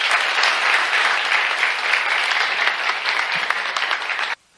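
A church congregation claps together in steady, dense applause during a sermon on the crucifixion of Jesus, loud and sustained, then cutting off abruptly near the end.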